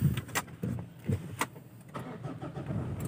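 A 2011 Mitsubishi Pajero Sport Dakar Exceed with a diesel engine and automatic transmission is started, with a few short cranking bursts close by before the engine settles.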